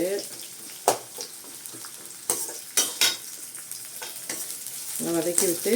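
Onions sauté in a pan for veg biryani, a soft sizzle broken by several sharp spatula clacks and scrapes as they are stirred, with brief voice-like sounds near the end.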